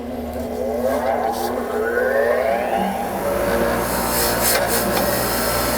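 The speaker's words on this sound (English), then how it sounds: "I think the quickest way to deal with this is with my wire wheel." A wire wheel scours crusty, rusty threads during an exhaust header install on an Acura Integra, giving a loud, steady whirring rasp that runs without a break.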